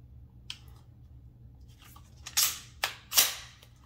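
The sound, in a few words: P320 pistol trigger dry-fire click and reset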